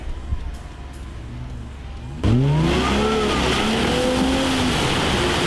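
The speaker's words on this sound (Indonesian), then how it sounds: "ini Henry hobinya ngegas tuh, abis mau digas sama dia." An off-road jeep engine at a muddy off-road course in Sentul, Bogor, idling low before a sudden hard rev that climbs and holds loud and close, with rising pitch sweeps as the throttle is worked.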